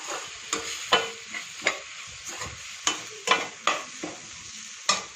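Sambar powder is sautéed in oil for butter beans kuzhambu, a steady background sizzle broken by about ten sharp spoon strikes and scrapes against the pan at irregular intervals, close up and with no talking.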